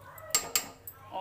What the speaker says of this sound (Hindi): ये हमने दूध इसमें डाल दिया है और अब हम इसे अच्छे से चला देते हैं